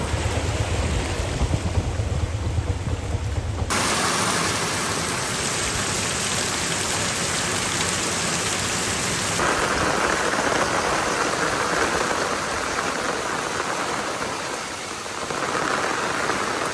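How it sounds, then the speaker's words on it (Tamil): Heavy, unbroken rain pours onto a flooded road in Jaffna, a dense steady roar of splashing water, loud and close throughout, its texture shifting slightly partway through, no one speaking. "விடாது மழை தொடர்ச்சியாக பார்த்தீங்கன்னா கொட்டி தீர்த்த வண்ணமே இருக்குது."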